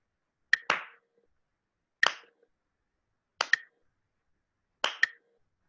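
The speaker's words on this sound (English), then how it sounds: "So there's the metronome clap, the metronome sound, and my clap, which should be coinciding" Four evenly spaced pairs of sharp hand claps and metronome clicks land close together as a rhythm is kept. They ring out crisp and near, with silence between them and no talking.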